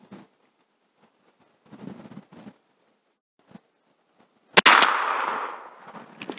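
A single sharp gunshot rings out during circle-breaking target shooting practice, followed by a long decaying echo. Faint rustling and handling noises come before it, with no talking.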